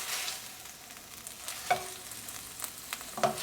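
Eggplant being stirred in a creamy sauce in a pan over low heat: a soft, quiet sizzle with a few scraping knocks of the spoon, no talking.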